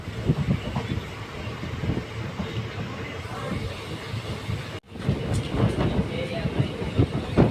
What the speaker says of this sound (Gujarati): કાંઠી સ્ટેશન પર એક મિનિટ હોલ્ડ કરીએ આપણી ટ્રેન નીકળી ચૂકી છે